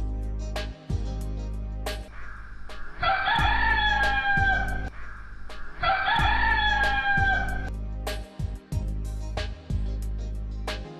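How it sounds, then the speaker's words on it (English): A hen cackles in two loud, drawn-out bursts, with quieter clucks and a low steady background hum between them. "And the hen cackled."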